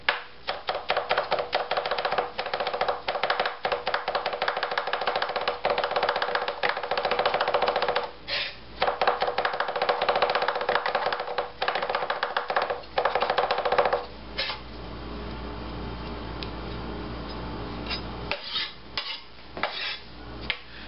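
A knife minces garlic on a cutting board in fast, steady chopping taps that stop briefly, then pick up again more sparsely.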